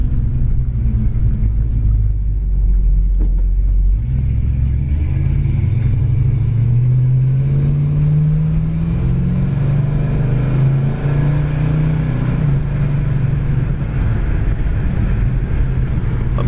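A 1967 Dodge Coronet accelerates on the road, its engine rumbling loud and steady with a rising drone as speed builds, mixed with road and wind noise and no talking.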